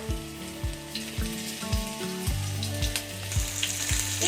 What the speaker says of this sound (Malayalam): ഒരു ടീസ്പൂൺ ബട്ടർ ചേർത്ത് കൊടുക്കാം ഇനി നമുക്കിതിലേക്ക് പനീർ ഇട്ട് കൊടുക്കാം